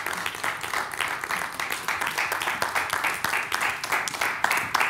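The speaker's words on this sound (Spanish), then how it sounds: "Un fuerte aplauso para Ana Vaquerizo y Sandra Lario." An audience greeting two Aragonese journalists on a Spanish television program breaks into loud, dense applause, steady rapid clapping filling the room throughout.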